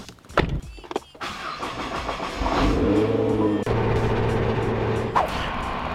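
A 2020 Toyota Supra race car at San Antonio Raceway starts up and rolls out. Its engine blips and revs close by, then settles into a steady, loud drone with gear changes.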